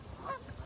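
Ducks calling at a pond, a short honking, goose-like call rising near the middle over steady low background noise, close and moderately loud.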